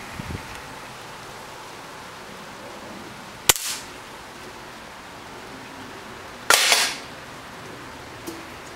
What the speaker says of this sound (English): I'm going to have to try and trigger this thing with an air rifle